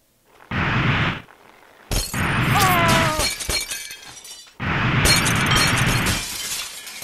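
Glass shatters repeatedly in the Happy Wheels video game, three loud crashing bursts of breaking glass with tinkling debris, separated by brief quieter gaps.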